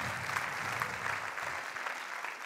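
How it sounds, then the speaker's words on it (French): A conference audience in a hall applauds in a dense, continuous wash of clapping that is soft and even for a couple of seconds. "on peut applaudir Xavier."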